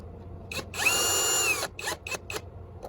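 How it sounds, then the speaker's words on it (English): A power screwdriver whirs in short bursts, one long sustained run and several brief clicks, driving two screws into the housing of an X-ACTO Model 1675 electric pencil sharpener, close up with no speech. "Now we're gonna put our 2 screws back in there."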